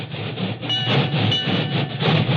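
A steam locomotive work train rolls along the main track with a rhythmic clatter and low mechanical rumble, heard up close for a brief moment.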